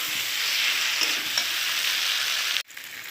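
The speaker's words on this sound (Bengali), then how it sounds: "এবার ভেজে রাখা আলুগুলো দিয়ে দিলাম, দিয়ে আর একটু কষিয়ে নেব আলু আর মশলা" Fried potato chunks and spice paste sauté in a pan as Bengali prawn and jackfruit curry is cooked, giving a steady, close sizzle with stirring that cuts off abruptly near the end, then resumes more faintly.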